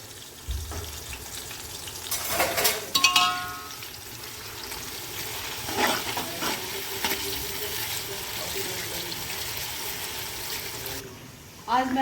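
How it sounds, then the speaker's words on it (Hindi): Onions frying in oil in a pot for chicken biryani, giving a low sizzle with some clattering stirring near the start and a brief water-like splash, close by and continuous for several seconds. "सिर्फ ऑयल के अंदर ये प्याज भुन रही है।"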